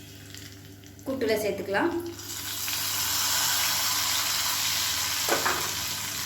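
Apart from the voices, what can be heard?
cumin and curry leaves frying in oil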